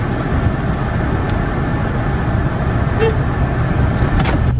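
A Toyota car in Georgia is driven, with steady road and engine rumble heard from inside the cabin, broadband and loud with a few faint clicks and no clear speech.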